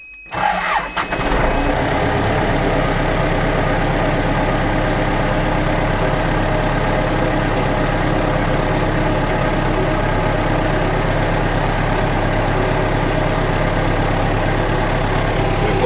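MTZ tractor engine starting up right after replacement of two cylinder liners, cranking briefly then catching and settling into a steady, loud, close diesel idle that runs on alone.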